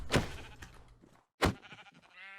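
Two clear, close sheep bleats from Minecraft, each loud and wavering, separated by a short pause, with no talking.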